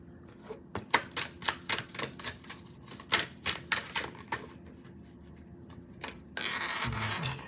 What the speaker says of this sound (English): I'm gonna get out the rest of the cards before I really go into this.